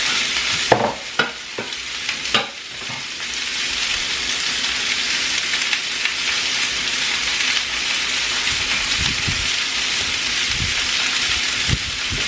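Sweet Spanish onion sizzles and crackles in a frying pan with a constant hiss. Several sharp scraping stirs come early and a few more near the end.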